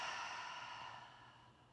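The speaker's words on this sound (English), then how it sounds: "forcibly exhale everything out" A deep, forceful exhale during a gentle pregnancy yoga session, one long breathy rush of air that starts strong and slowly tapers off, close and alone.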